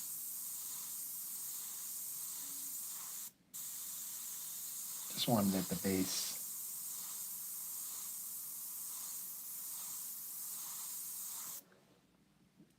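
An airbrush spraying paint onto a cat-eye and fur artwork, a steady continuous hiss with brief breaks, while a person talks briefly over it.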